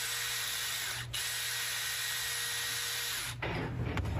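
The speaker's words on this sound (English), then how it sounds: "I like to hold everything together, kind of push it all together while I drive these screws" A power screwdriver driving 25 mm screws into a Nerf Gryphon blaster, a steady whirring drive holding for about three seconds, then a short burst of a second screw, close and moderately loud.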